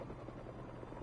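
Helicopter blades in the video game Spider-Man 2 give a steady, pulsing low whir, faint and continuous for a brief moment.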